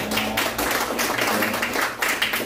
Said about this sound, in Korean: 우리 박수로 좀 환영하도록 하겠습니다